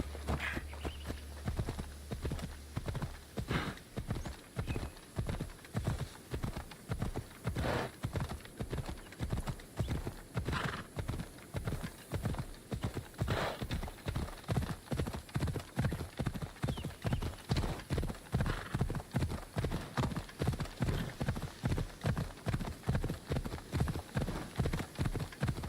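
Horse hooves galloping at a steady, rapid clip-clop rhythm in Assassin's Creed Odyssey, loud and close throughout, with a brief whinny near the start and game ambience underneath.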